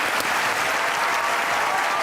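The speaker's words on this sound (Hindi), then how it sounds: "आपकी भरपूर तालियों में ख़वातीन हज़रात" A studio audience applauds, a dense, loud, continuous roar of clapping that holds steady throughout.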